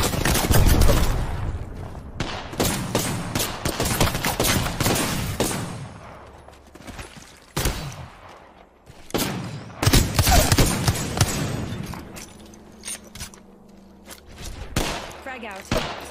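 Rapid bursts of automatic gunfire from an Apex Legends firefight, loud clusters of shots broken by brief pauses and thuds, with some sharp isolated cracks, over a dense game soundscape.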